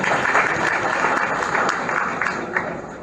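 Audience members at an airline inauguration ceremony give a round of applause, steady mid-distance clapping with a few sharper individual claps standing out, continuing without talk for the full span.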